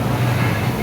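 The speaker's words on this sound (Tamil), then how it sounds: "water coaster ride" Riders on a water coaster at MGM Dizzee World amusement park in Chennai, heard as a loud, steady rush of wind and water noise that fills the brief moment without any distinct events.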